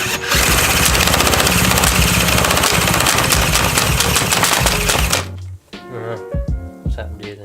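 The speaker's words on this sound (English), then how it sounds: "let's spin it over and see if we can get it to fire" A drill cranks over a Yamaha PW80 engine, a loud, rapid, rattling mechanical whir that runs steadily for about five seconds and then cuts off, leaving quieter clunks and handling noises.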